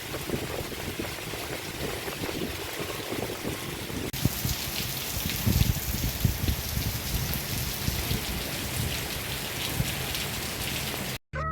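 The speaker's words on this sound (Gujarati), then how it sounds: "ધી નેક્સ્ટ ડે ભાઈ વરસાદ હારામારો આવી ગયો" Heavy monsoon rain pours down in a steady, dense hiss with no voices, growing noticeably louder and fuller after the first few seconds and holding that intensity to the end.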